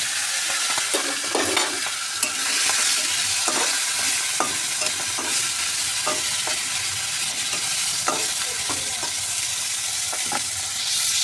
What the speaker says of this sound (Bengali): এটা ভেজে নেবো এখন